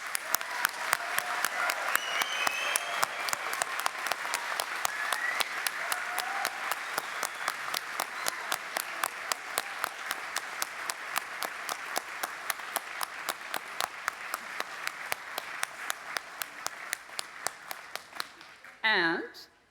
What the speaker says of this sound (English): please join me in offering a final and well-earned round of applause and congratulations to this year's graduates